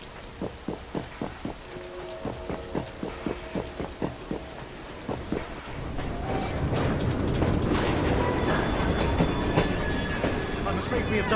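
Moving train in Assassin's Creed Syndicate: a regular clacking rhythm of wheels over rail joints, then a louder, dense rumble and rattle of the train at speed fills the rest.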